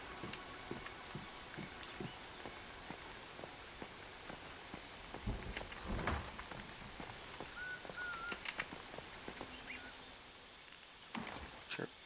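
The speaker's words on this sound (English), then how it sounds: "And it's raining just in time." Rain falls in the survival video game Once Human, a soft continuous patter of drops on surfaces with scattered sharper taps, quiet and steady, with faint bird-like chirps and no talking.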